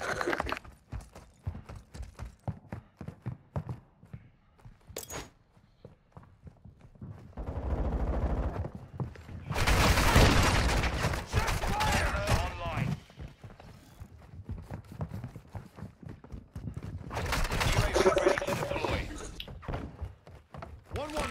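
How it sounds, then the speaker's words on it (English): A deployed sentry gun firing in a video game: several loud bursts of automatic fire in separate stretches, between quieter clattering and radio-style voice lines. "Sentry gun deployed."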